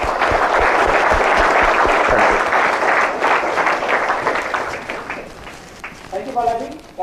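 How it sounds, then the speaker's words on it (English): Audience applause at a BNI Symphony business networking meeting, a steady loud wash of clapping that fades over several seconds before a voice begins to speak near the end. "Ladies and gentlemen, give all of us a round of applause for the amazing work that you're doing."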